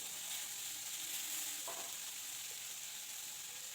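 Eggplant pieces dropped into a hot pan with parshe fish and cumin, a steady bright sizzle of frying throughout with a brief clatter as the pieces go in, close and without talk.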